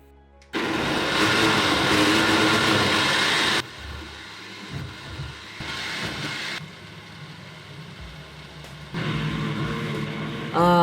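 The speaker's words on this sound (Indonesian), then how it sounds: "agar mesin blendernya itu bisa berputar dengan maksimal" An electric blender grinding sambal ingredients with a full glass of water, its motor whirring loudly in several bursts with brief pauses and a quieter lower-speed stretch between them.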